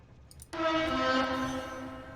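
Train in Factorio pulling into a station, a sudden sustained horn-like tone that starts loud and holds steady before easing slightly, heard alone without talk.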